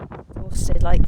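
Heavy wind at Penarth buffets the microphone with low rumbling gusts that grow louder partway through, while a voice talks underneath.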